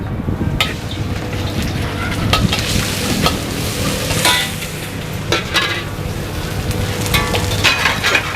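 Steady frying sizzle of noodles in a wok with scraping and clattering of a spatula stirring, continuous and close.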